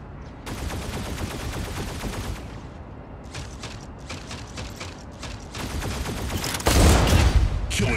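Dense mechanical gunfire from the robot combat game Mech Arena hammers almost continuously, rapid repeating shots in long bursts, loud and close, with a heavier blast near the end.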